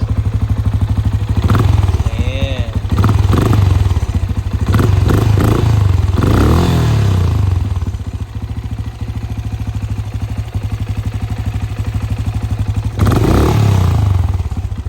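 A Benelli Imperiale 400 motorcycle engine runs loudly and close, revving up and down in several surges over a steady idling rumble.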